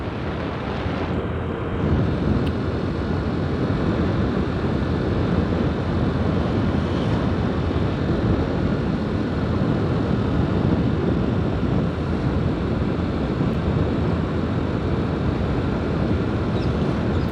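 Cool wind sweeps along a village road lined with coconut trees, a steady, loud broadband rush buffeting the microphone throughout, with no voices.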